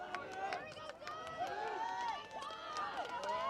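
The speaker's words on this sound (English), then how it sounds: "The crowd getting pumped up." Spectators at a high school boys' lacrosse game raise a lively mix of shouts and cheers, many voices overlapping at moderate distance in a continuous, excited din.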